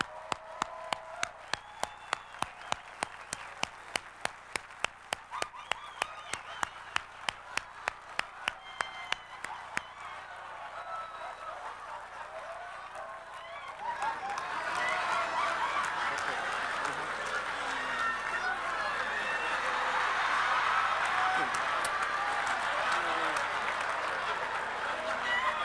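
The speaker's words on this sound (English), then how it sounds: "Give her a round of applause." A large audience at a business seminar claps in a steady rhythmic beat, then breaks into loud, sustained, dense applause as a woman is welcomed onto the stage, with cheering mixed in.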